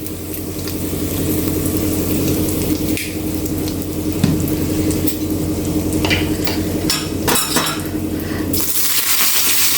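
Asafoetida and a sprig of curry leaves sizzling in hot oil for a spinach-stem sambar tempering, flame switched off. A steady, close crackling hiss runs throughout, with a few sharper bursts toward the end.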